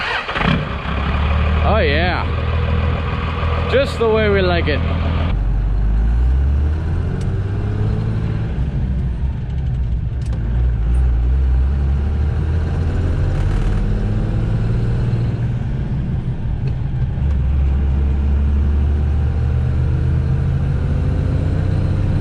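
A 12-valve swapped Ford F350 truck with a five-speed NV4500 transmission cranks over and settles into a steady low idle, someone speaking briefly over the start before the engine rumbles on alone.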